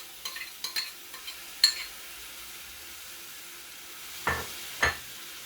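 Onions frying in oil in a pan, with tomatoes about to go in: a low, steady sizzle under scattered clinks and stirring scrapes, with two louder scrapes near the end.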